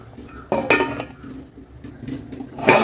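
Metal lid set onto a cooking pot of kuska, two or three sharp clanks and clinks with brief metallic ringing, close by, separated by short pauses.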